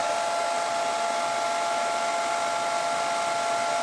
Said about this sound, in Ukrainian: Зараз включаю фен